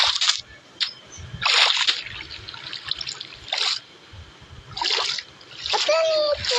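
In the Minecraft video game, a character walks through water, producing a series of short splashes and sloshes in an irregular rhythm, with a person talking in between.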